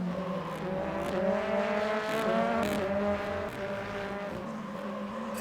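A Ford Focus touring race car lapping Paul Ricard in a BTCC race: a sustained engine drone whose pitch rises and dips through the revs, heard at moderate level with no voices.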